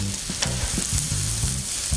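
Thin-cut chicken breast sizzles loudly in bacon fat on a 36-inch Blackstone griddle just after being flipped, a dense steady crackle close up with low scraping bumps underneath.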